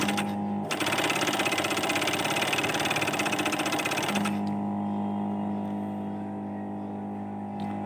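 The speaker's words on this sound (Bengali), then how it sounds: "পাওয়ার সুইচ অন করলাম এখন আমি চালাই দেখি ঠিক আছে" Cylinder-bed flatbed sewing machine running under power, a fast, loud, even mechanical chatter for about three and a half seconds that starts and stops abruptly, with a steady motor hum before and after.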